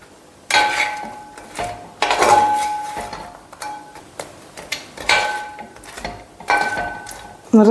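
A metal spoon scrapes and clanks against a pan as a roasted mixture is stirred into jaggery syrup for an Onam sweet, in irregular bursts of knocks and scrapes with speech between them.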